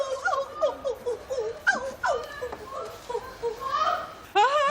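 A dog whimpers and yips in a TV prison drama, with a run of high, wavering whines and short yelps that rise and fall close by, ending in a louder drawn-out whine, mixed with faint voices.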